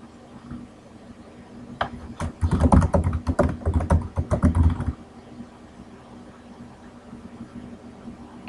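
Someone types a file name on a computer keyboard, a fast burst of close, clicky keystrokes lasting about three seconds against a quiet background hum.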